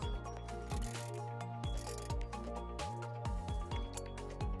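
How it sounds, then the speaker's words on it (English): A 10mm socket ratchet tightens a tow hook on a 2010-2015 Toyota Prius, with rhythmic clicking ratchet strokes in repeated bursts, close and steady with no talk. "Replace the tow hook and tighten down with the 10mm socket."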